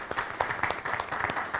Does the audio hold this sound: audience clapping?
yes